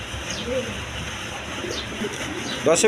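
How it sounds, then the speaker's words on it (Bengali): A pair of lace pigeons coos softly at a bird market amid background chatter, with low rolling coos and a brief sharper sound near the end. "এইখানে এক পেয়ার লেস শাড়িং কবুতর আছে"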